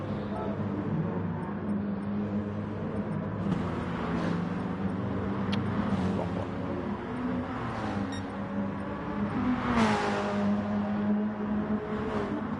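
Gr3 racing cars in a video game circuit at Spa-Francorchamps, engines droning steadily together with tonal whine rising and falling as cars pass, continuous and moderately loud throughout.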